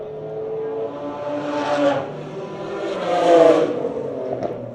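A BMW race car in a Class B race at Red Star Raceway crosses the finish line, its engine note rising and swelling as it passes close by with no one speaking.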